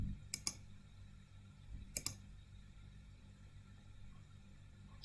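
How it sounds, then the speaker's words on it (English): Two crisp mouse clicks while running code in RStudio on a computer, quiet and close, about two seconds apart over a low steady hum. "Now I click run again."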